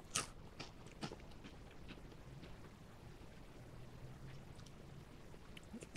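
A dry piece of South Korean Green Onion Chex cereal crunches between the teeth, a few faint, crisp bites near the start and then quiet chewing at low volume.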